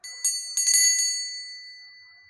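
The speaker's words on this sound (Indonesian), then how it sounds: "saya akan memulai kartu ini dengan ditandai lonceng berbunyi" A small bell struck a few times in quick succession, its bright ringing tone lingering and slowly fading into silence.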